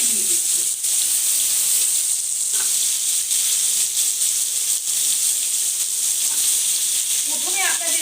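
Chopped, washed vegetables hit hot oil in a pan while cooking lentil dal, giving a steady, loud sizzle and hiss that fills the whole stretch, with a little stirring near the end.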